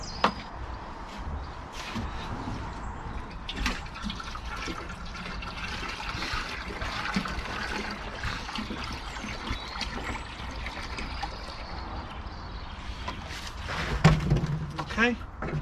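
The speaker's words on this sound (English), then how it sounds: "we're going to top up with the remaining water" Water poured to top up a container of iron sulphate mix for lawn feeding gives a steady, close rushing trickle that runs throughout, with a few knocks and a brief louder splash near the end.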